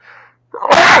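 A single sharp sneeze from a woman, a brief breathy intake followed by an abrupt loud burst, close to the microphone indoors.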